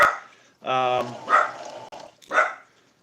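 A dog close by lets out a few barks: a drawn-out, tonal woof followed by two short, sharp barks.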